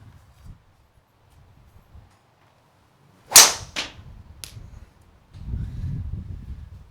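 A golf driver strikes a ball out on a course, a single sharp crack standing out clearly against quiet outdoor ambience, followed by faint rustling.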